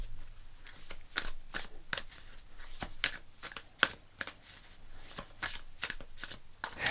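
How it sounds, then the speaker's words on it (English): Oracle cards shuffled by hand for a tarot reading, a steady run of crisp riffling bursts and soft slaps repeating for several seconds, close and clear with no talking. "Let's pull you an oracle card."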